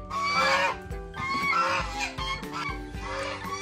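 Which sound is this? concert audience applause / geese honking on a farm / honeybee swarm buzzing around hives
geese honking on a farm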